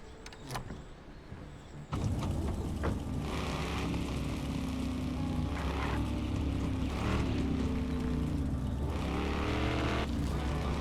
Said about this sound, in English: It's got a V8 engine. You can hear it.